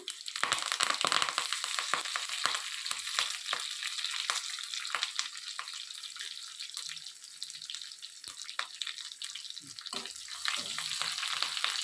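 Curry leaves hit hot oil with mustard seeds, cumin and garlic in a pan while making mango pickle, giving a loud, steady sizzle full of crackles and pops that lasts throughout with no talk.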